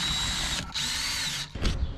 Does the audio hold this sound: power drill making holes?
yes